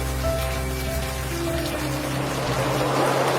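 Rain falls steadily with a constant hiss, mixed with sustained tonal background music.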